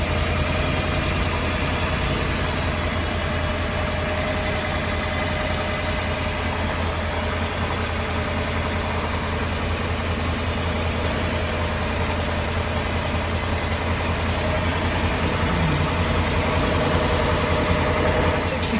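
An inboard marine engine idles on the port side of a boat during a raw water pump check, giving a steady, loud, continuous rumble with a constant low hum that stays unchanged throughout.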